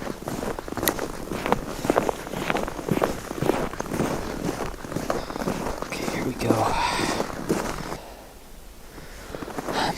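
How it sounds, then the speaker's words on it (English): Footsteps crunch through the wilderness in an uneven rhythm with faint murmured voices, then fade into quiet near the end. "I thought I heard footsteps."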